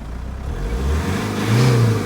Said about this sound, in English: while we're revving it, it seems as lively as you like